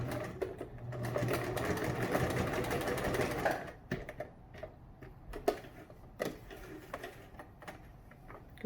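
Home sewing machine stitching a cloth face mask, running steadily for about four seconds, then a few short bursts and clicks as it backstitches forward and backward, close and fairly loud.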